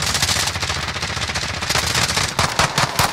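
Gunfire in the video game Warzone: loud, dense automatic fire rattles almost without a break for a few seconds, with sharper single cracks near the end and no talking over it.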